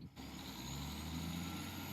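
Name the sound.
Class 153 diesel engine under power, heard from outside, Train Simulator Classic video game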